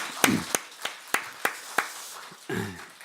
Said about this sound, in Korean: 우리 감사와 격려의 박수를 한번 올려드리겠습니다